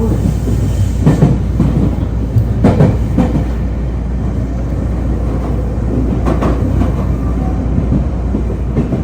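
A train rumbles into Izumisano station in Osaka, a steady loud low roar of rolling wagons with intermittent clickety-clack rail joints and brake noise, continuous throughout.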